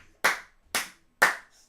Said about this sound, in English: Do you hear applause?